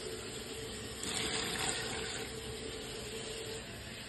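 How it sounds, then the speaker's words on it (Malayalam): About two cups of water are poured into a cooking pot, a soft, steady splashing gush that swells briefly in the middle, faint and close with no talk. "അപ്പൊ ഞാൻ വെള്ളം ഒന്ന് ഒഴിച്ചു കൊടുക്കാം."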